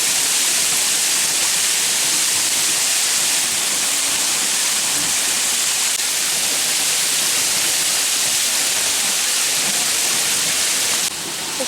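Water rushing and splashing along a channel in a water feature at Parque das Nações in Lisbon, a dense, constant loud wash of noise with no voices over it.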